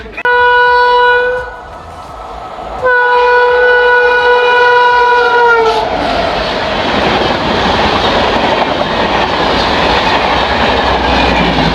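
Passenger express train on an Indian railway line, its horn sounding in long tonal blasts before the loud rush and rumble of the carriages passing close by.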